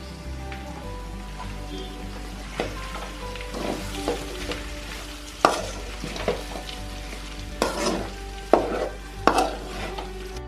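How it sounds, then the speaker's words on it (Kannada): Capsicum frying in a pan at home, a steady low sizzle under intermittent sharper spatula scrapes and clinks that grow louder toward the end. "ಕ್ಯಾಪ್ಸಿಕಮ್ ಆಯಿತು, ಸ್ವಲ್ಪ ಫ್ರೈ ಮಾಡಿದ್ದೀನಿ."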